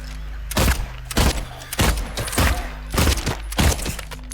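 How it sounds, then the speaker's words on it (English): Gunfire in Silent Hill 2 Remake: six or seven loud, heavy shots fired at a slow, irregular pace, each a sharp blast with a short decay, with no voices between them. "Shooting all the things."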